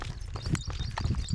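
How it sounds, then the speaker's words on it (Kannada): Hooves clop on a farm path as a cow walks along behind. The steps are irregular and fairly close, with no talking. "ಹಸು ಬರ್ತಾ ಇದೆ ಹಿಂದೆ."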